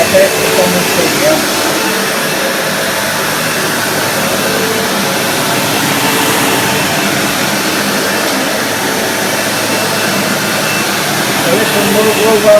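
A 1976 Hoover Starlight vintage vacuum cleaner roars steadily as it is pushed across studio carpet, a loud, continuous broadband whir with no talk over it.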